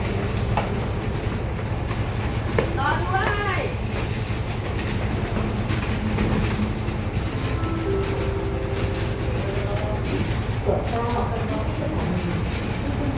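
A local train rumbles and clatters into Uthumphon Phisai station in Thailand, wheels squealing briefly, while a Thai public-address voice speaks over the steady rolling noise.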